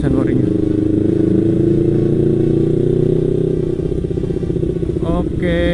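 Engine of an older second-generation Kawasaki Ninja motorcycle, a steady loud running drone close by that holds through most of the clip, dips slightly near the end, with a person talking over it.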